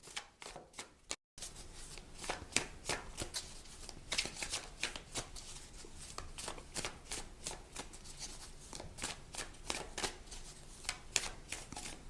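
Tarot and oracle cards get shuffled quickly and close up, a dense run of crisp riffling snaps and flutters after a brief pause, with no talking.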